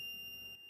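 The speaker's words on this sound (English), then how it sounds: "And if it's raining outside, the buzzer turns on." An Arduino rain sensor circuit sets off its buzzer, a thin steady high electronic tone that holds for most of a second over quiet background before cutting out.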